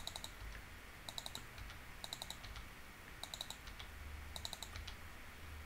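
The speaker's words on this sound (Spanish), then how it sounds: "doble clic y presionamos la tecla que nos proporciona las comillas simples" A computer keyboard clicks in short bursts of crisp keystrokes, including a press of the single-quote key. The clicks come in small clusters at irregular intervals over a quiet background hum, close and soft.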